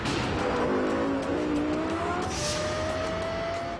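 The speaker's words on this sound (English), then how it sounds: "And the sound of this high revving engine is unmistakable." A Lexus LFA's high-revving engine sweeps up through the revs with a rising, sharp wail, holding loud and steady with some tire noise, heard alone without talk.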